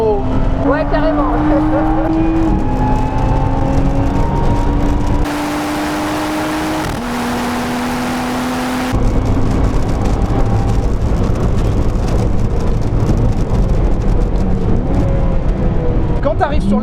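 A Toyota Supra Mk5 runs fast with a loud engine drone whose pitch climbs through the gears, interrupted by a brief muffled gap, while people talk over it inside the car.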